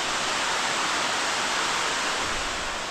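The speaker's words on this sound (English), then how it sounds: "Beautiful waterfall. Got some mini falls down here too." A waterfall with small cascades below it, in the Constanza highlands of the Dominican Republic, roars as a steady, dense rush of falling water with no letup, close and loud, with no voices.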